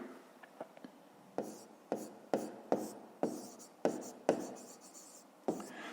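A pen writing on paper while working a math exercise, a steady series of short scratching strokes, close and fairly quiet, with no talking.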